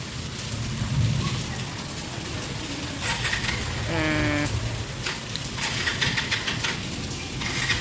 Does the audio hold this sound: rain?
yes